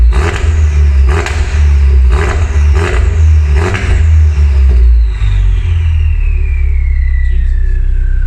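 Loud, close revving from a Mk3 RS Focus fitted with a Simpson race exhaust. Five sharp throttle blips rise and fall in quick succession, then a longer sweeping rev fades back toward a rumbling idle.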